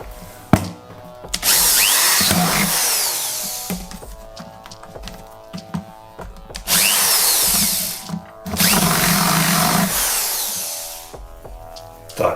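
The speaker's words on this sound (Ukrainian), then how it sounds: "треба ще один отвір завести шланг аератора гідропоніки" A power drill bores a hole in a bucket for a hydroponic aerator hose, giving three loud bursts of whining, grinding drilling separated by quieter pauses with clicks and handling knocks.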